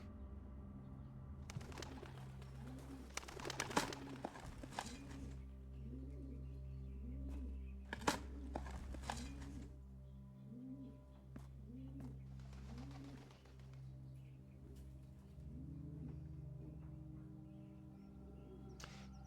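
Pigeons cooing in the video game Blue Prince, a steady repeating series of soft coos over a low background hum, with occasional sharper clicks and rustles.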